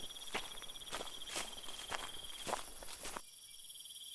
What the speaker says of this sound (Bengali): ঝিঝি পোকা আর ব্যাঙের ডাক শোনা যাচ্ছে।